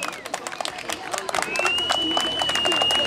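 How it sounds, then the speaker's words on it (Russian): Audience applause for the winner of an amateur fight-tournament bout, dense clapping that swells and stays steady, with a whistle-like tone and crowd noise mixed in. "Громко аплодируем, друзья, громче."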